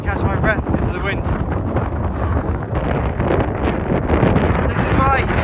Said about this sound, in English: got very windy in this stretch